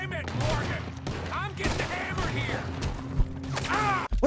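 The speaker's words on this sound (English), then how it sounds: "Bro, shoot your gun!" Gunfire in the video game Red Dead Redemption 2, with sharp shots and bursts popping under loud, excited talking throughout.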